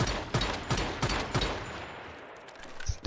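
Gunfire in the survival shooter Once Human during online player-versus-player combat, a rapid regular string of loud shots that thins out and then returns with a few more bursts.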